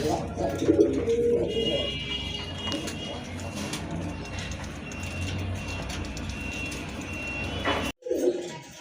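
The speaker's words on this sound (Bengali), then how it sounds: "খুবই সুন্দর দেখার মতো এক জোড়া কবুতর" A pair of domestic pigeons offered for sale coo steadily at close range through the clip, with a busy, noisy background of other birds and a brief break near the end.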